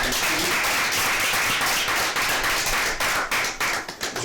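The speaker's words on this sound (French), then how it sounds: "On peut applaudir la maison de production." Dense, sustained applause from a crowd, loud and close, thinning into scattered individual claps toward the end.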